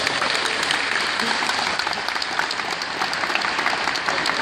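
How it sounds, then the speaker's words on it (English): Dense, steady applause from a mall audience at a Black History Month event, honoring the fifth-grade winner of the MLK Oratory Contest; the clapping stays close and even throughout with no voices on top. "Give her another round of applause"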